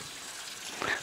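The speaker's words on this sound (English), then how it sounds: "I am draining the grease, man." Grease drained off a pound of freshly cooked ground beef in a home kitchen gives a faint, brief liquid gush and trickle near the end, over quiet background hiss.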